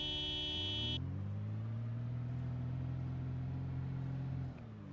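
A car horn honks inside the zombie survival game Project Zomboid, a single sustained blare lasting about a second over an idling engine, followed by a steady low engine drone, with no talk.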